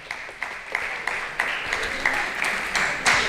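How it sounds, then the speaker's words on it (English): Applause for a buyer at an FFA ham and bacon auction, a crowd clapping steadily with a few louder bursts, moderately close and without speech over it. "Give him a big round of applause."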